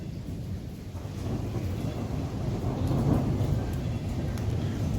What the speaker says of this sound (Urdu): یہ بادلوں کی گرج سن رہے ہیں؟